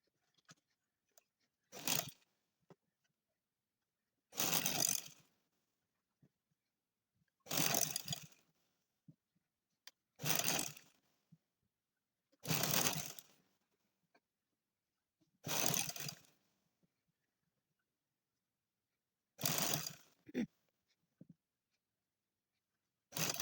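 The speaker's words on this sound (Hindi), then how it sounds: "चलिए आइए हम इसको स्टिच करके दिखाते हैं आपको।" A sewing machine stitches a tulip shalwar in about eight short whirring bursts separated by silent pauses, close and fairly quiet, with no talking.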